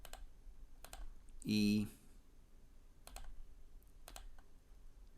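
Keys on a TI-83/84 calculator are tapped in a few soft, sparse clicks spread across several seconds, faint and close, with a short stretch of speech near the start.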